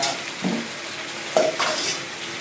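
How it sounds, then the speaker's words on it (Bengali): Potatoes frying with chicken meat in a pan, a low sizzle punctuated by a few sharp spoon scrapes and clinks against the pan. "আলুটাকে একটু কষিয়ে নিচ্ছি মাংসের সঙ্গে"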